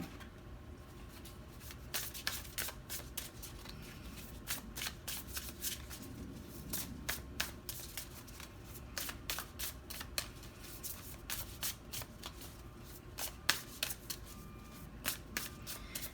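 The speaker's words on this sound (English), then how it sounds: "Let's pull some more cards." Tarot cards being pulled and shuffled by hand, a steady run of crisp riffling snaps and slides that come close and fairly loud, with brief louder flicks scattered throughout and no talking.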